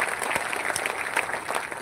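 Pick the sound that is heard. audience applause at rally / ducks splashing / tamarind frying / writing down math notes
audience applause at rally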